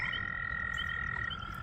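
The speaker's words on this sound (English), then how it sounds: "As well as spring peepers. Tree frogs. Crazy, isn't it? How loud they are?" Spring peeper tree frogs on a farm in early spring call in a loud, dense chorus of high, steady peeps that carries on without a break for the whole stretch.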